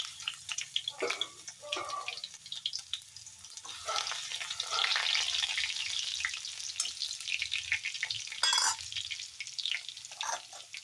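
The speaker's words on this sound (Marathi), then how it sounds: "मोहरी छान तडका लागली, त्यात टाकायचं जिरं आणि ठेचून घेतलेलं लसण." Mustard seeds, cumin and crushed garlic sizzle and crackle in hot oil for a ridge gourd stir-fry, with a steady frying hiss, a few stirring scrapes and sharp spits near the end, close by and without talk.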